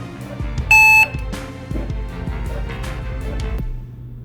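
A single electronic fishing bite alarm beep, a bright steady tone lasting under half a second, sounds over background noise and faint rustling.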